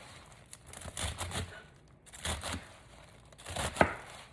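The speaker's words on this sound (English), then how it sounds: "I'm going to cut these up" A knife chops leafy greens on a board in quick bursts of crisp thuds and rustles, separated by brief pauses and close to the listener.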